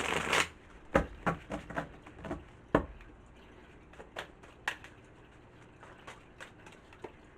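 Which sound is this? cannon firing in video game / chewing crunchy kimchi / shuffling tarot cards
shuffling tarot cards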